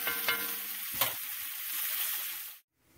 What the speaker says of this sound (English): Oh, bacon grease.